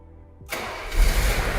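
A classic Mercedes-Benz engine cranks and fires after a quiet moment, quickly catching into a loud, close, rumbling idle.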